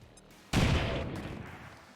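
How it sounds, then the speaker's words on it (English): A frag grenade goes off in Long War of the Chosen, heard as one sudden, loud blast. The deep rumble then decays slowly over about a second and a half. "Frag grenade here."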